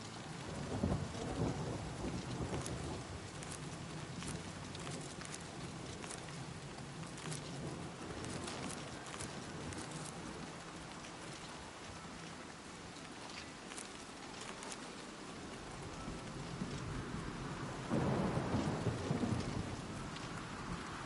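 Heavy rain in the video game Oblivion Remastered pours steadily throughout, with low rumbles of thunder rolling underneath and a louder swell near the end.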